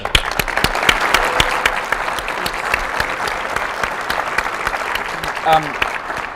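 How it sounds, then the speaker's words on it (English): A TEDx audience gives a round of applause, dense sustained clapping from a full room that continues for several seconds with some crowd murmur beneath it. "Can we get a round of applause for him, please?"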